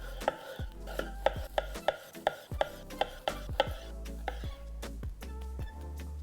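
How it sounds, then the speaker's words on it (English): Knife slicing a pineapple into thin slices, a steady series of crisp chops striking the cutting board about twice a second, close and clear, with a faint voice in the background. "And that's how I like to cut my pineapple."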